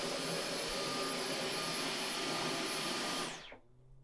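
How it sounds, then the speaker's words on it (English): A Dyson vacuum cleaner with a pet brush attachment runs with a loud, steady high-pitched whine, then switches off and winds down quickly near the end. "Now all you do is start the vacuum up again."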